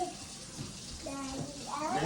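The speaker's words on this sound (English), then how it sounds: "I gotta wash my hands." Water running steadily from a tap for hand washing in a restroom on a Chicago trip, a continuous close hiss, with people talking over it.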